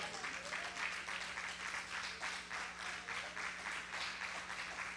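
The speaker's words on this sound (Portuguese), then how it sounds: "Aplauda o Senhor." A church congregation applauds during a sermon, clapping in a faint, steady, rhythmic pulse that sounds distant and even throughout, with a low hum beneath it.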